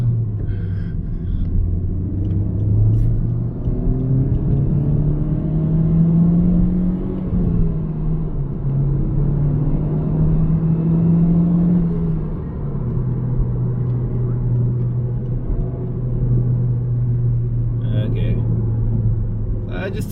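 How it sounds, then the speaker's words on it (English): A Honda Civic Type R FK8 accelerates through its gears with a steady low engine rumble whose pitch climbs, drops at a shift and climbs again, heard from inside with talking over it. "I just took it up to 4th gear, you know, just let it pick up some speed."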